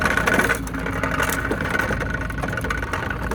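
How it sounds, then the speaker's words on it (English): An idling truck engine at a scrapyard gives a steady, loud mid-pitched rumble, running continuously and evenly with no voices over it. "Truck's idling."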